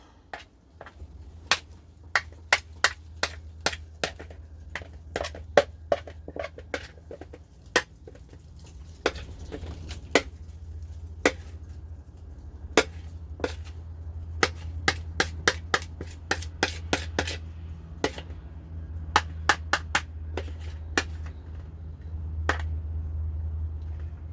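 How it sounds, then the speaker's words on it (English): Tacky bread dough is kneaded by hand on a floured board, giving many sharp, close smacks and sticky pops in an irregular rhythm over a low, steady background hum. "I'm going to scrape this out onto a floured board, and then we're going to give it a quick knead and shape it into some rolls."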